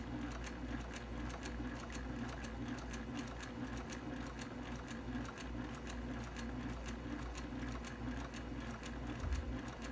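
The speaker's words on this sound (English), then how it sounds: "we're going to sew around our piece" A sewing machine stitches around a quilt appliqué piece, giving a quiet, fast and evenly spaced run of mechanical ticks with a low motor hum beneath, uninterrupted for the whole stretch.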